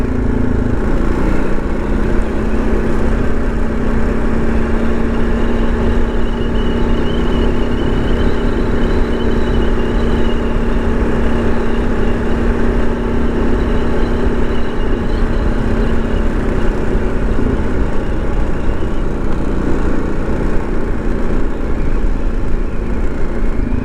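A motorcycle on Michelin Anakee tires cruises along a rural road, its engine a steady, loud, continuous drone with a sustained tone and wind rush throughout.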